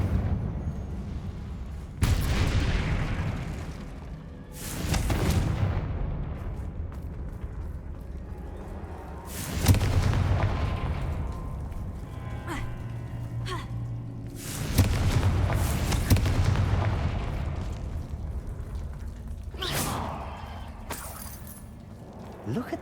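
Confringo spell explosions in the game Hogwarts Legacy, a few heavy booming blasts with shattering debris that swell and decay over several seconds each, interleaved with shouted spell incantations.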